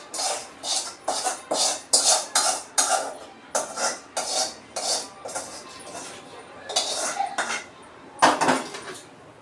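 A spoon scrapes and clanks against a pot while tempering is stirred into brinjal pieces. The metallic strokes come in a quick, uneven rhythm, close and fairly loud.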